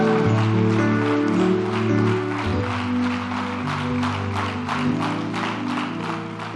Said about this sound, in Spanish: Denle un fuerte aplauso en el nombre de Jesús.